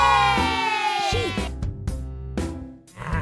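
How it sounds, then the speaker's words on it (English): A sheep gives a long, loud bleat that slides downward and breaks off, then a few shorter bleats follow close by over a soft musical backing. "Sheep."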